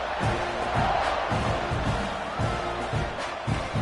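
A football stadium crowd roars and cheers during a kickoff, a dense, steady wall of distant voices that swells slightly and holds throughout.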